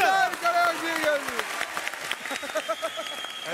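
Studio audience applause for a singer on a Turkish comedy talk show, a burst of clapping under an announcer's voice, with bright stinger music fading through.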